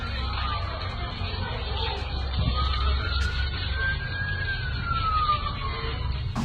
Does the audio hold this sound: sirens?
yes